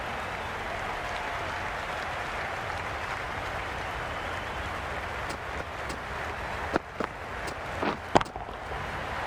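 Crowd applause and cheering in a PS4 cricket video game, a steady broad wash of clapping from a large stadium audience, moderately loud, with a few sharp thumps and clicks toward the end.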